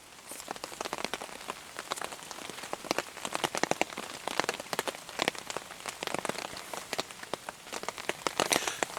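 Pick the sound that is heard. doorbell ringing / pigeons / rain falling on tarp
rain falling on tarp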